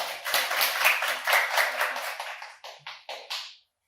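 An audience claps for a speaker being introduced at a Korean industrial safety certification talk, with dense applause that thins into a few separate closing claps before stopping.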